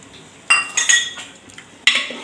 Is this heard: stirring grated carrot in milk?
yes